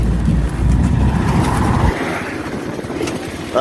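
A Kawasaki Mule utility vehicle with a Duromax 440cc engine turns around and drives back, its engine loud and close, then dropping to a lighter, steady putter partway through.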